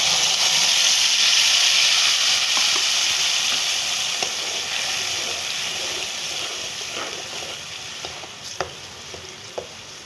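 Masala with garlic and ginger frying in a pan for chicken karahi, a loud steady sizzle and hiss that gradually softens, with a few faint clicks of stirring near the end.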